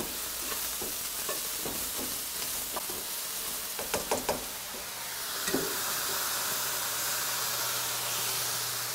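Mushrooms frying in a pan for a creamy paleo soup, a steady close hiss of sizzling with a few spatula knocks and scrapes early on, no talking.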